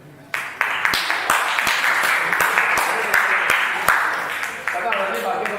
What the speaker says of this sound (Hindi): ताली आपके लिए।